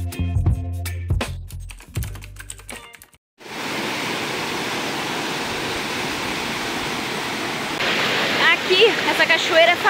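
A waterfall in the Amazon rainforest during rain roars as a loud, steady rush of water. Some sharp clicking comes first, then the rushing sets in and carries on, with a voice briefly speaking over it near the end.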